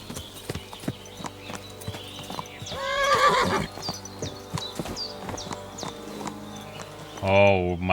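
A horse in Kingdom Come: Deliverance II trots with close, steady hoof clops, whinnies loudly partway through and gives a second loud neigh at the end, with no talk over it.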